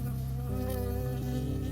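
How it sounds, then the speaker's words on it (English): A bee buzzes loud and close in the hiking video game Firewatch, a steady droning hum with shifting pitch that lasts throughout with no voices. "stung by a bee"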